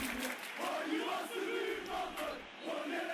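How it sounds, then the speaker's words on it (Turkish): Stadium crowd chanting in a PES football video game during a play-off final, a loud continuous rolling chant that swells and dips in waves. "Evet zaten tezahüratları duyuyorsunuz."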